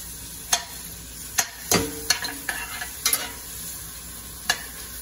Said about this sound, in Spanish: pondremos una olla con aceite previamente a calentar y agregaremos la cebolla.